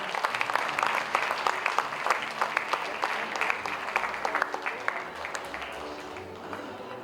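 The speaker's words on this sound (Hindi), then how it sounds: "तालियां अधिक उम्र वाले ज्यादा बजाएं" Audience clapping at the Sarvottam Nagrik Samman 2026 award ceremony, a sustained wash of many hands applauding with sharper individual claps poking through, steady and fairly close, gradually thinning toward the end.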